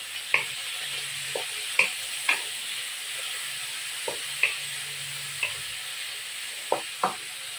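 Pork kasim sautéing in a pan with a steady soft sizzle, punctuated by sharp clacks of a spatula knocking and stirring every second or so, close and without talk.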